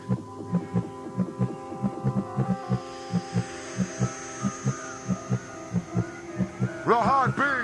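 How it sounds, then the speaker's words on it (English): Heartbeat sound effect in a dance music track, a deep regular double-thump repeating steadily over a sustained hum, with a rising electronic sweep near the end. "Wait for the heartbeat."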